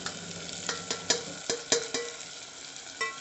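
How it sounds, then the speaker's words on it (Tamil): Chicken gravy with chili powder, turmeric, garam masala and coriander powder being stirred, a series of close spoon scrapes and knocks against the pot over a low sizzle. "இப்போ நம்ம இதை மிக்ஸ் பண்ணிக்கலாம் நல்லா எல்லாத்துக்கூடியும் சமமாக இருக்கிற மாதிரி மிக்ஸ் பண்ணிக்கலாம்"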